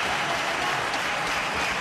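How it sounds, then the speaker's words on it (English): Cricket crowd at Sharjah applauding a batsman reaching fifty during a 1997 Pakistan v India one-day match, a dense, steady wash of clapping filling the whole stretch without a break. "Yes, he deserves the applause."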